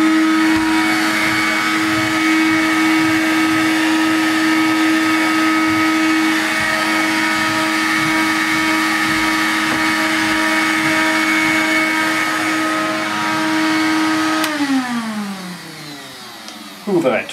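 A vintage Hoover Hooverette stick vacuum cleaner runs with a steady, loud motor whine and airflow for most of the stretch, then its pitch falls away as it is switched off near the end.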